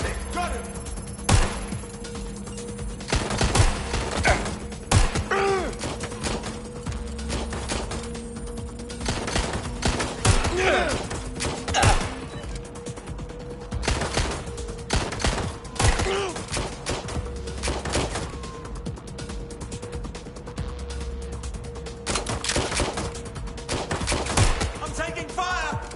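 Rapid bursts of gunfire from the Watch Dogs Legion video game, with repeated sharp shots and volleys over a steady game backdrop and brief voices in the mix.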